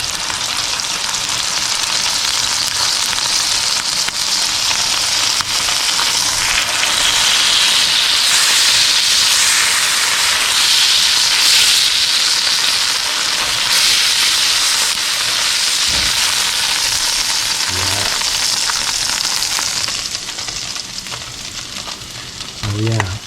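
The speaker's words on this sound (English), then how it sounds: "just to get those all edges seared and brown just a little bit." Filet mignon edges searing in a hot pan, a loud, steady sizzle and hiss close by that runs continuously for a long stretch, with brief knocks near the end as it eases off.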